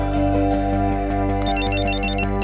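A phone ringtone plays loud and close, a repeating electronic melody with bright chiming notes that keeps cycling without pause, no voices over it.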